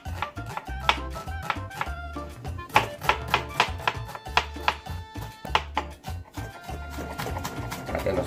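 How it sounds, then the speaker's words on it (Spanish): A knife chops through onion on a cutting board in a home kitchen, with steady rapid strikes forming an uneven, close and fairly loud rhythm throughout. "Cortamos la cebolla."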